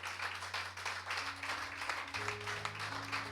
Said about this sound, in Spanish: Dale un aplauso al Padre.